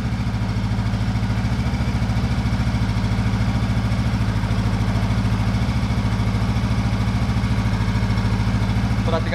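A Honda CB500X motorcycle sits at idle, its engine ticking over in a steady, rapid, evenly pulsed beat up close for several seconds with no talk.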